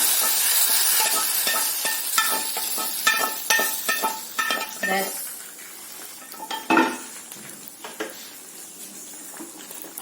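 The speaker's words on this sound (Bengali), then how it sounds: "যে তেলে আমি মাছটা ভেজেছিলাম মাছের মাথাটা সেই তেলেই আমি ফোড়নটা দিচ্ছি" Bay leaf, dried chilli and cumin tempering sizzle in the oil left from frying fish, with a steady hiss under several sharp metallic clinks and scrapes of a spoon stirring in the pan, close up.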